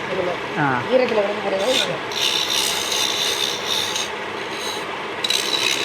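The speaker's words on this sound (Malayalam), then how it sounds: "ഉളി വെച്ചിട്ട് അതൊക്കെ ലെവലാക്കും അല്ലേ" A chisel scrapes and smooths carved designs on a wooden toy in a workshop, a continuous rasping rub with short bursts of brighter scraping, while a voice speaks briefly near the start.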